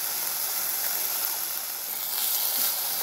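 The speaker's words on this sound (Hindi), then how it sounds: "पुदीना भी हमारा ये फ्राई हो चुका है तो हम इसको थोड़ा सा भून लेंगे" Fresh mint leaves fry in a pan on a gas stove for pickle masala, giving a soft, steady sizzling hiss throughout, faint and even with no voices.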